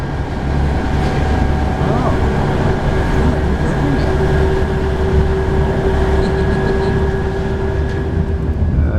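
A train pulls into Didcot station with a continuous low rumble, wheel and rail noise and a steady high whine, close and fairly loud throughout, with no speech over it.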